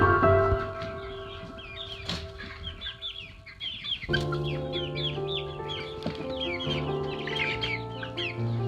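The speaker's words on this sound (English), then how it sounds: "Chicken. Good chicken." Chickens cluck softly around a farm pasture, with repeated short clucks and chirps over a faint low hum, moderately near and unhurried.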